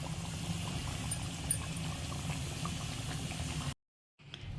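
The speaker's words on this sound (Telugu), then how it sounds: "ఈ గ్రేవీని చాలా సేపు, అంటే ఒక 15-20 నిమిషాలు ఉడకనియాలి" Tamarind-based fish curry gravy bubbles in a pot before the fish goes in, a soft, steady blubbering simmer that runs unbroken until it cuts to brief silence near the end.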